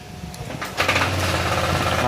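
Honda Click125 V3 scooter engine with suspected lower-end crankshaft noise, running and revving up sharply after a brief quieter start, then holding a steady, fairly close buzzing drone.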